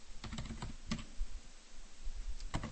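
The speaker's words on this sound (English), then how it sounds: "Watching my typing." Typing on a computer keyboard while writing an SQL query: irregular clusters of crisp key clicks, close and clear, with short pauses between bursts and no talking.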